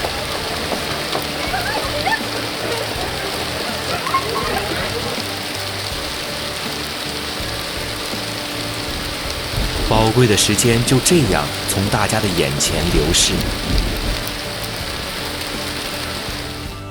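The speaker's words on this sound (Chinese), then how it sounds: "瓢泼大雨顷刻卸下" Heavy downpour drums steadily on an outdoor stage, a dense broadband hiss with a burst of louder splashing and spattering near the end; a voice narrates over it throughout.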